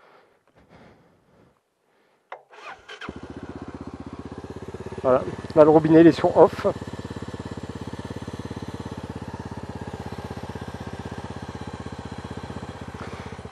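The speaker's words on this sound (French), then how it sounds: "la moto, elle continue à tourner, elle s'arrête pas." A motorcycle engine starts after a quiet moment and keeps running at a steady idle, with a brief revving burst partway through, close by; someone talks over it at the start, during a trail ride on the TET.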